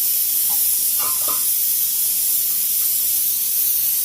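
Drumstick leaves frying in a covered pan with salt, a steady close hiss and sizzle under the lid, constant and unbroken with a few faint clinks.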